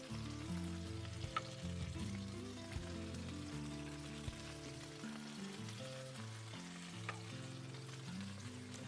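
Salmon fries in a pan with a soft, steady sizzle and a few small pops, a faint, close, continuous hiss with no talking.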